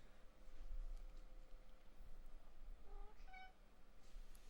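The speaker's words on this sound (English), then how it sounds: "Did you hear my cat?" A pet cat meows briefly in the background, a short rising cry standing out faintly over steady low-level game and room noise.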